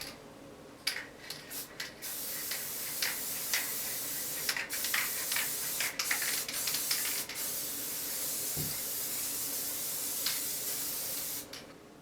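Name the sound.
aerosol spray can spraying quilt fabric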